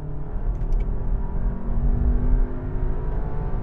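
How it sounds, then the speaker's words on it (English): A VW Golf R and a Cupra Ateca accelerate hard side by side from 50 mph in third gear during a rolling race, producing a loud, sustained engine roar and low rumble heard from inside the car, with no talking. "now we're gonna have a rolling race from 50 miles an hour in third gear"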